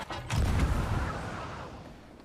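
A ship's cannon blast in the pirate game Sea of Thieves, one heavy booming shot with a deep thump that fades into a long rumbling tail.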